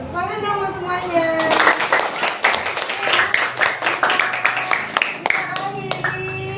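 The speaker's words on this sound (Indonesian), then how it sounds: "kita tepuk tangan dong buat semuanya" A classroom of children clapping their hands together, uneven and close, with a teacher and kids talking over the claps and a musical tone in the background.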